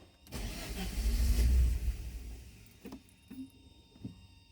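A 1983 Porsche 944 that broke down in a parking lot tries to start: a starter cranks and the engine churns for about two seconds without catching, followed by a few brief clunks and clicks, close by, with no talking.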